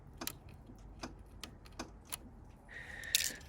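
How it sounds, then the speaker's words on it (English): Clutch on a Ford Escape's A/C compressor clicking as the relay pins are jumped with a wire, a series of sharp, evenly spaced close clicks, followed by a brief hiss near the end. "You can hear the clutch click"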